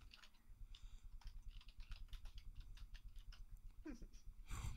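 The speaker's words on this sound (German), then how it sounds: "Oh Gott, ihr tippt ja lange." Rapid, close keyboard typing from players entering text in a Gartic Phone party game, a dense, uneven clatter of keystrokes running throughout without a break.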